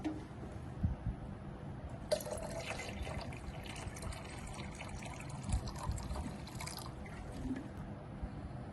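Water being poured into a container for a smart water-level monitoring setup, a faint trickling and splashing that grows busier midway, recorded quietly without talk.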